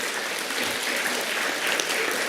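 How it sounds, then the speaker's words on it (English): Brief burst of audience clapping at an afternoon conference session, steady and fairly dense throughout, heard on its own without talk. "Wasn't expecting a clap."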